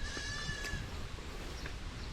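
Baby goat bleating on a farm in the Philippines, a few short cries heard faintly over a steady background hiss.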